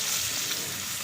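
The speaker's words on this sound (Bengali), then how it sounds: "সকালবেলায় মাছ ভাজা হচ্ছে" Fish frying in hot oil in a home kitchen in the morning, a steady, close and loud sizzle that runs without a break.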